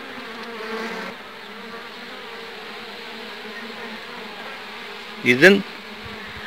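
Honeybees buzzing at a beehive, a steady close drone throughout with a sharp louder buzz near the end as a bee passes, and a brief spoken word.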